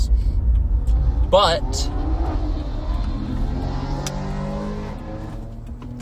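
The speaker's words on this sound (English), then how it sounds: "Love an extremely loud car" An extremely loud car passes at night, a deep engine rumble that swells early then slowly fades into the distance, with a person speaking over it.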